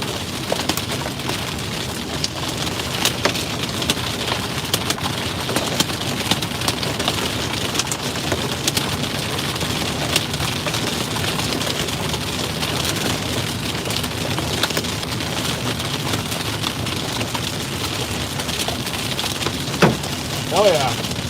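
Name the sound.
rain falling during a storm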